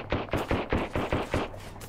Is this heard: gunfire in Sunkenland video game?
yes